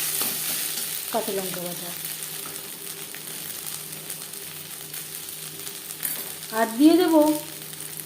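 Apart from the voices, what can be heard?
onion frying in a pan with ginger paste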